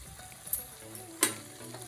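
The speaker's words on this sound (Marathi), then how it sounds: "आपण सोनेरी रंगावर तळून घ्यायच्या, खूप करपवायच्या नाहीत" Shankarpali frying in hot oil until golden, a soft, quiet sizzle with a couple of brief crackling pops.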